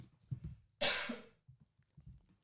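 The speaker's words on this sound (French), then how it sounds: "Et je vais tousser à côté de mon micro." A single sharp cough close to the mic, set between soft murmuring sounds and breaths in a quiet room.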